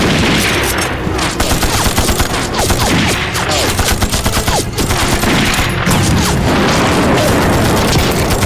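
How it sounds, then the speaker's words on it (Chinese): Machine gun fire in a war movie battle against Japanese troops: loud, relentless rapid gunfire mixed with booming blasts and continuous din, dense and close throughout with no pause. "给老子拿起机枪来。"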